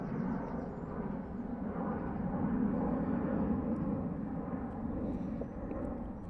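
A Finnair airliner taxis at Heathrow Airport, giving a steady, low, rumbling jet-engine drone. The sound holds at a moderate distance throughout, with no talk over it.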